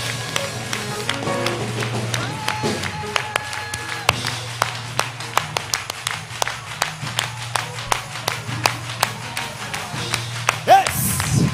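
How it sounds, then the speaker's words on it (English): A church congregation at a Holy Convocation Sunday morning praise service clapping hands in a steady, evenly spaced rhythm, sharp distinct claps over a low sustained hum and background voices, with a louder burst near the end. "Put your hands together"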